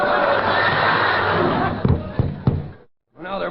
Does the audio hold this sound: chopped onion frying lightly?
no